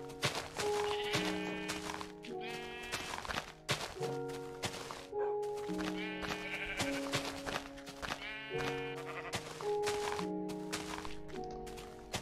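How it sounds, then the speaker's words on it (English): Sheep in the video game Minecraft bleat again and again, a steady run of wavering calls close by, mixed with soft thunking, with no talk. "I mentioned that sheep can actually regrow their wool now"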